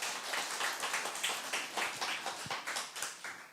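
Members of a church congregation at a Sunday worship service clap in a fairly regular, rhythmic pattern, a moderately quiet group of hands keeping a steady beat throughout.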